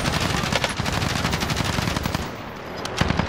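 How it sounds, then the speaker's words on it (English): Rapid automatic gunfire from enemy shooters in a video game rattles continuously and loudly, dense bursts overlapping with short gaps before a final volley. "They're shooting at me."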